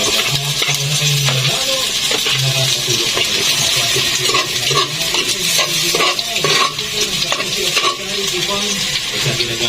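Garlic and ginger fry in a pan with a steady, loud broadband sizzle, broken by frequent scrapes and taps of a utensil stirring against the pan.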